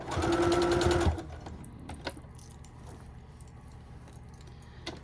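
A sewing machine runs close and loud for about a second, stitching across the top of a fabric piece beneath a small ruffle. It then stops, leaving quiet room tone with a few faint clicks.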